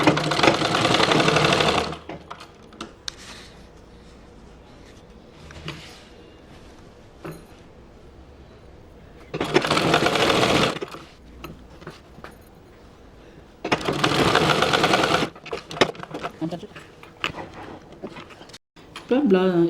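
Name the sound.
sewing machine stitching a blouse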